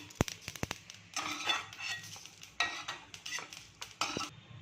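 Sesame seeds dry-roasting in a pan for curry-leaf chutney, giving bursts of crackling and scraping stirs with a few sharp clinks near the start, close and moderately loud, no voices.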